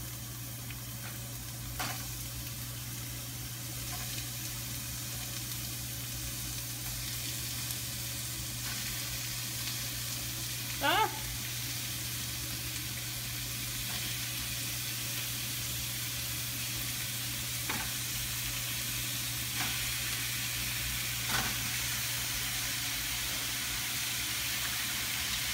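Ground turkey with garlic fries in a pan, a steady, even sizzle over a low hum, broken only by occasional faint scrapes and stirs.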